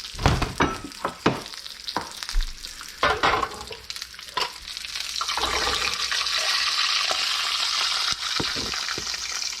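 Hot bacon fat poured from a pan into a container in a home kitchen; a few clinks and scrapes open, then a steady, close hissing pour runs for several seconds.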